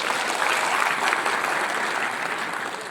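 An audience claps steadily and fairly loudly at a UP transport rally, a dense, even applause that holds for a few seconds with no voices over it.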